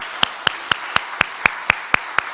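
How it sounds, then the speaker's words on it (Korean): An audience claps in slow, evenly spaced single beats for a praise team at a late-night church prayer meeting, about nine distinct claps over a steady room hum. "우리 엘피스를 위해서 한번 격려의 박수를 한번 하면 좋을 것 같습니다"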